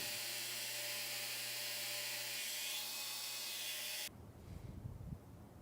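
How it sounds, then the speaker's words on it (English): A belt grinder grinds a shallow hollow into the side of a chef's knife blade, giving a loud, steady, high abrasive whine that cuts off abruptly and leaves quieter clattering workshop noise. "it's grinding in a very shallow hollow to the opposite side"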